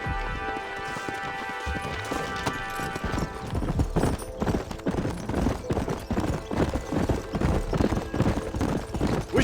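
Horse hooves galloping in the video game Red Dead Redemption, a rapid steady clip-clop rhythm over a tonal in-game score, loud and continuous with occasional whinnies.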